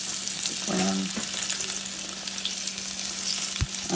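Pork chops fry in shallow grease in a pan for smothered pork chops, a steady close sizzle with brief scraping stir sounds and a sharp knock near the end.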